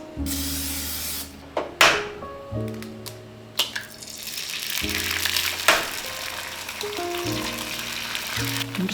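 An egg fries in a pan with a loud, steady sizzle and spitting hiss, broken by several sharp clatters of the pan and utensil, all close by with no talking.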